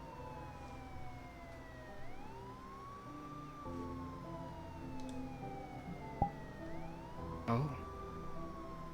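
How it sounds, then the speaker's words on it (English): Police sirens wail in a VRChat roleplay game scene, a rising and falling electronic tone from a distance over low ambient noise. A brief clicking sound and a short exclamation from a voice break in near the end. "I can hear the fucking police sirens"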